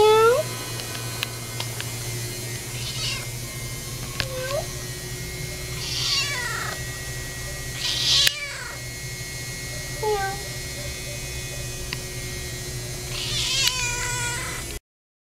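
A cat meows several times at intervals, short rising-falling cries over a steady low hum and faint background noise.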